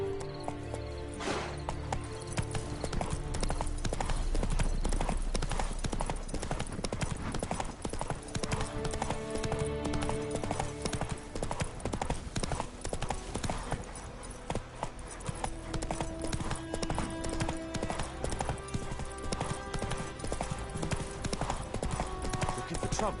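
Roach, the horse in The Witcher 3, trots with a continuous, even clip-clop of hooves under game ambience and music, and a voice speaks now and then.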